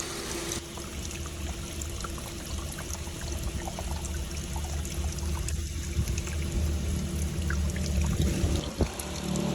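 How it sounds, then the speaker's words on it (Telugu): Water trickles out from between stones along a roadside stop on a road trip near Dharwad, a steady low splashing flow that continues throughout at moderate level with no talking. "నీళ్ళు అయితే పట్టుకుంటున్నాం అనమాట. మొత్తం స్టోన్ మధ్యలో నుంచి వస్తా ఉంది కదా."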